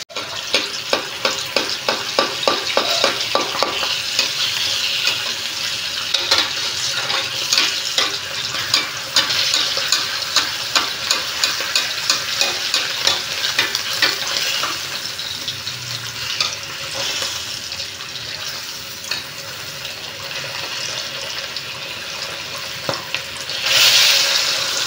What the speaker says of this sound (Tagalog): habang piniprito natin itong isda